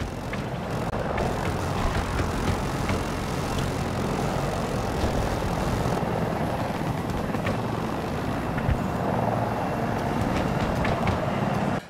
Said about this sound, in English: it's a very good thing the helicopter blades aren't programmed with a collision